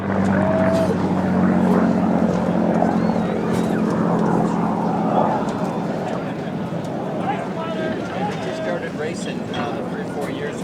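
P-51 Mustang racing at the Reno air races, including a blue and silver Mustang, with a steady distant engine drone under continuous announcer commentary.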